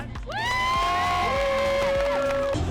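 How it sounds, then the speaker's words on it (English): An audience at a cruising kids' Olympics gathering in George Town cheers with rising whoops and shouts, a short lively burst close by. "You guys can clap for that."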